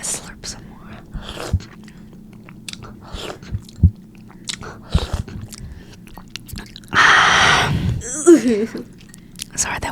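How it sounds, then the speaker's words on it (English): Close-up slurping and eating of tomato soup: wet mouth clicks and chewing sounds, then a loud sustained slurp near the end, with soft whispered talk throughout. "I'm gonna slurp some more."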